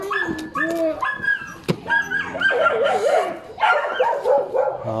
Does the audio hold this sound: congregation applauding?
no